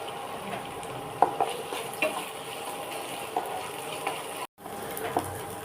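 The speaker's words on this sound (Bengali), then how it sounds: "আমার পেঁয়াজটা একটু ভাজা ভাজা হয়ে গেছে" Onions frying with a pinch of salt in a pan for chicken bokhara, a close steady sizzle with occasional clicks and scrapes of a stirring spoon and a brief dropout near the end, no voices.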